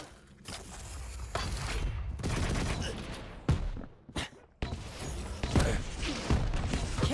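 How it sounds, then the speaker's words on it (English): Rocket launcher fire and explosions sound in a Quake Champions match, with bursts of rapid weapon fire, sharp blasts and short gaps of quiet. "Good rockets by Dramis"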